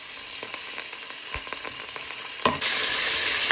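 Pork steaks frying in a pan, a steady close sizzle with small crackles and a few light knocks, the hiss swelling louder toward the end.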